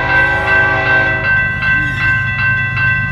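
A high-pitched Safetran type 3E railroad crossing bell rings in steady repeated strikes at a crossing, loud and close, over the rumble of a passing BNSF intermodal train.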